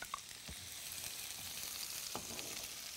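Onions and cashews fry in an Indian cooking pan, making a soft, steady sizzle with occasional stirring clicks and scrapes. No one speaks.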